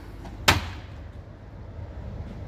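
A tool box drawer, the electrical drawer, is pulled open with a single short, sharp slide and clack, followed by quiet room tone.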